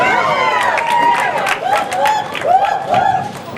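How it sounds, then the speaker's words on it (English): A small fan club at a bowling alley cheering on a bowler named Kaylee, with a short burst of excited shouts and whoops from a few close voices, rising and falling over a few seconds. "Kaylee's fan club cheering her on"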